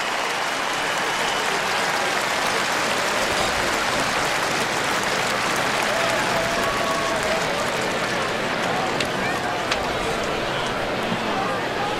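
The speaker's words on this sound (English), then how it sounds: "that's what gets everybody here collectively to exhale and applaud" A football stadium crowd at a San Diego State versus TCU game applauds in a broad, continuous wash of clapping and crowd noise that holds loud and steady, with a commentator talking over it.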